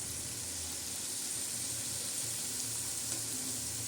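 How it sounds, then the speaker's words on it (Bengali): Semolina sweets frying in hot oil in a pan, a continuous close, even sizzle with faint bubbling throughout. "ততক্ষণে আমি ভাজতে থাকবো যতক্ষণ না একটা ব্রাউন কালার চলে আসে"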